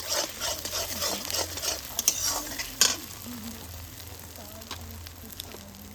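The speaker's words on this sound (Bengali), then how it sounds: "এবার ডিমের ব্যাটারটা দিয়ে ডিমটাকে ভেজে নেব ডিমের ভুজিয়া বানিয়ে নেব" Beaten egg batter frying in hot oil in a wok, a soft continuous sizzle with spatula scrapes and occasional sharp pops, quiet and close, no talking.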